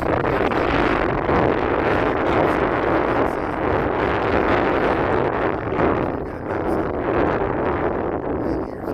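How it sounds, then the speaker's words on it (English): Strong wind buffeting the microphone during a bike ride in Chicago, a loud continuous low roar and rumble with no break. "it's going to be hard to hear me with the wind"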